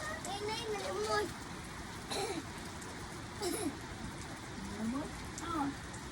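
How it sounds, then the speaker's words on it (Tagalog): Steady rain patters outdoors as a constant hiss, while children's voices chatter and call out over it. "It's raining tapos."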